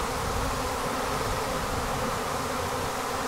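Honey bees from a swarm being hived into a seven-frame Apimaye nuc box drone in a dense, unbroken buzz, loud and close with no other sound.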